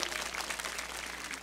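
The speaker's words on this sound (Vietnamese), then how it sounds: "Quý vị thì cũng cho một tràng pháo tay." An audience at a live show claps in a dense, steady wash of applause. It is fairly faint and brief.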